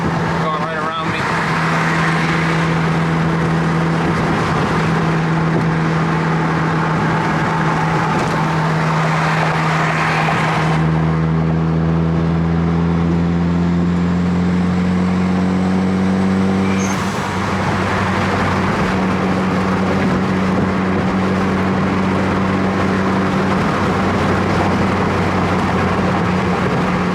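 A turbocharged Honda Accord cruises at speed on a highway, its steady engine drone and road roar filling the cabin with a low sustained hum that shifts pitch as it accelerates, while someone talks over it.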